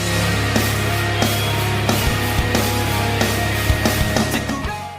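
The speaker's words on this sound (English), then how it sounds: "along with the sound of like a transistor radio having problems off to the right" Guitar pedal feedback like a faulty transistor radio crackles through a dense rock mix, with a steady low drone and sharp rhythmic hits recurring roughly every second, loud and continuous throughout.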